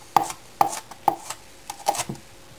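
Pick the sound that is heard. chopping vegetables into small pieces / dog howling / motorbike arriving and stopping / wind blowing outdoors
chopping vegetables into small pieces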